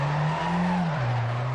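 Tires of a Mazda MX5 squeal in a sustained skid during a J-turn in the Assetto Corsa racing game, a continuous loud screech with a slight pitch dip over the engine's steady drone.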